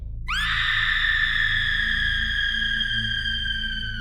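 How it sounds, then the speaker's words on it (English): A sustained, piercing high scream, attributed to a centuries-old skull, starts abruptly and holds steady at full strength for several seconds over a low rumbling background, sounding like a continuous eerie shriek. "suddenly it's shattered by the blood-curdling scream of a centuries-old skull"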